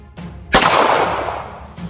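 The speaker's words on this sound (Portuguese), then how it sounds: "pegou sua espingarda e disparou várias vezes contra a sombra" A shotgun goes off in a night-time werewolf tale: one loud, booming blast with a long fading tail, then a second shot just beginning at the very end.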